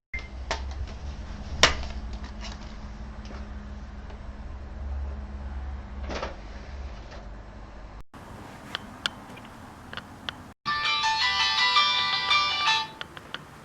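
A telephone ringtone plays in a quiet room, a brief electronic tone followed later by a louder warbling ring that runs for a few seconds near the end.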